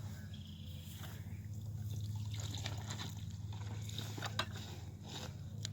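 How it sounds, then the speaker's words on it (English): Water is poured into a planting hole around a tree seedling, a soft, faint, continuous trickle and gurgle over a low background hum, with no talk. "The main purpose of the water is just to settle the soil right now."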